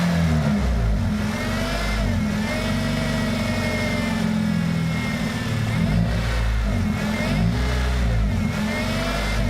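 A Honda car engine with failing throttle response drones and revs steadily at a loud, close level, its pitch wavering up and down in uneven surges with no talking.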